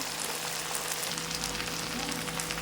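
Chicken fry sizzling in oil in a pan, a dense, even crackle that continues steadily and close throughout, with no voices over it.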